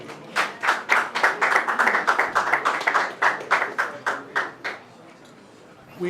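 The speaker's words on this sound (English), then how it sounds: "Let's give them another round of applause." Audience applause at a basketball press conference, a steady run of fairly close, rhythmic claps from a modest crowd lasting several seconds before tapering off into quiet room tone.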